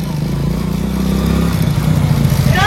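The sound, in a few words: motorcycle arriving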